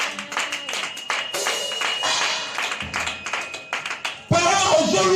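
A church congregation claps at a Christian family service, starting with scattered close hand claps, swelling into dense applause and ending in a louder, fuller burst, with voices mixed in.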